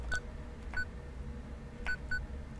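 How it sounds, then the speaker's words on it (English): Four short electronic beeps sound as a landline phone is dialed in the video game Paper Lily, spaced irregularly over a low hum. "A landline phone, red string, dial number."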